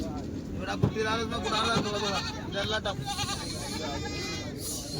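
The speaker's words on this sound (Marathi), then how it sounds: "शोकचा बकरा मित्रांनो बघा" Several billy goats bleat in quick succession close by, wavering nasal calls overlapping one another above a constant low rumble of background noise.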